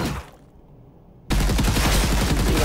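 Rapid bursts of gunfire from a spawned AI enemy in a side-scroller shooter video game, a loud continuous rattle that starts abruptly after a brief near-silent pause.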